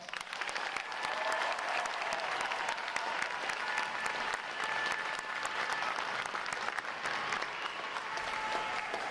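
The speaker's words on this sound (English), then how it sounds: "another round of applause" Sustained, even applause from a large crowd at a U.S. Navy boot camp graduation, dense clapping heard from a distance without a break.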